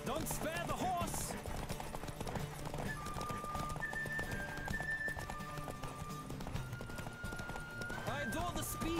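Hooves of racing horses in The Witcher 3 video game drum in a rapid, continuous gallop, with shouted voices and a neigh layered over the rhythm.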